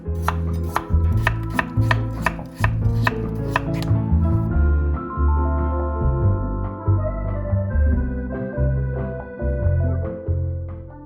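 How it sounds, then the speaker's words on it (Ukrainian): A knife taps rapidly on a cutting board in a fast, regular run of chops, then slower, steadier strokes continue close by, slicing potatoes thinly. "І далі нарізаємо тоненькими слайсами."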